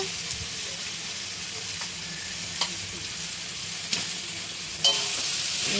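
Chicken feet and gizzards frying in spice masala, a soft steady sizzle with a few sharp clinks and scrapes from stirring, the last one leaving the sizzle slightly louder.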